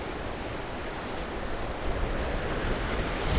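Ocean waves roll and wash in a steady broadband roar at the end of a jetty, with wind buffeting the microphone and the surf swelling slightly louder toward the end.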